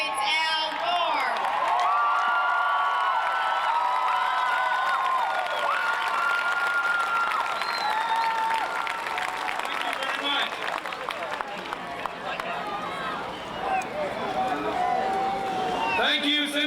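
A large crowd at a 1996 Centralia, Washington political rally applauds and cheers loudly and continuously, with whoops rising over the clapping and voices shouting.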